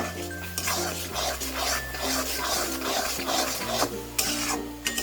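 Raw mango sandesh mixture, with ground fried spices added, is stirred in a kadai, giving continuous scraping and clinking of a spoon against the pan, steady and close with no talk.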